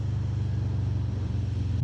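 A Harley-Davidson Breakout 117 V-twin rumbles at idle, a loud, close, low pulsing throb with an even beat that lifts briefly at the end.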